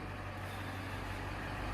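A Toyota 1UZ V8 engine, with loud valve lash, runs at a steady low drone, heard from some distance as a constant hum.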